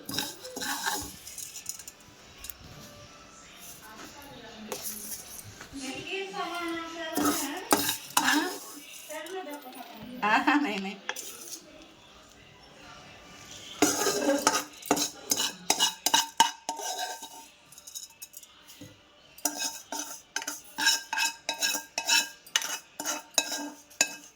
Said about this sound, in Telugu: సో మనం ఇప్పుడు ఈ సేమియాని ఈ పాలల్లో వేసేసుకుందాం